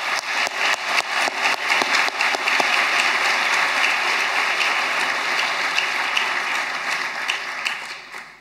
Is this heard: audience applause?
yes